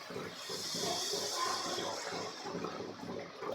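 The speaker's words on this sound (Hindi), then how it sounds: "अब यहीं पे हम डाल देंगे पानी।" Water poured into an egg curry masala gravy in a cooking pan, a steady splashing and hissing pour lasting a few seconds at moderate level, close by.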